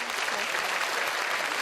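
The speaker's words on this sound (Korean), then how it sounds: "월드비전 합창단 지휘자와 반주자 선생님께 큰 박수 부탁드리고요" Audience applause for a choir conductor and accompanist at a church charity concert, dense steady clapping throughout, fairly close and even, with no voices over it.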